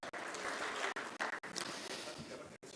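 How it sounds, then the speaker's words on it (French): Audience applause at the FANAF 2019 insurance conference in Africa, a steady wash of clapping from a large hall that runs through with brief gaps, fairly faint and distant. "Sous vos applaudissements, s'il vous plaît,"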